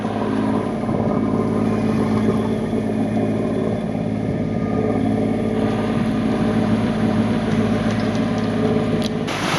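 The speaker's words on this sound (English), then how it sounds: "Just switched the engine on." A sailboat's engine runs steadily on approach to Eyemouth harbour, a continuous mechanical hum and rattle that stays loud and unbroken throughout.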